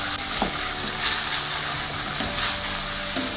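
Chayote stir-fry with oyster sauce and sugar sizzles steadily in a hot pan while being stirred, with occasional scraping strokes over the constant frying hiss.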